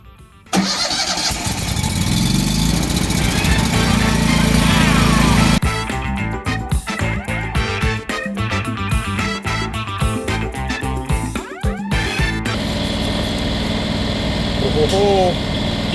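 An engine-driven Blazer welder cranks and starts, then runs at a steady mid-pitched idle with uneven surging, loud and close, while a person speaks over it.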